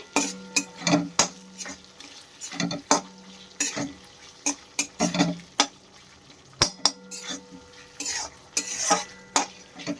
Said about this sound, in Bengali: আলুটা মশলার সাথে ভালোভাবে কষে নিতে হবে